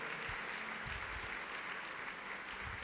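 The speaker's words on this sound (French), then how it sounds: "Give him a mighty clap offering." Congregation at a church service clapping in praise, a steady dense wash of applause that stays loud and even throughout.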